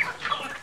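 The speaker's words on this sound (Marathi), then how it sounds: "कोंबड्या आहेत ज्या, या सगळ्या गावठी आहेत, प्युअर गावठी आहेत." A brief, close burst of clucking from native country chickens kept in a poultry farm in Konkan.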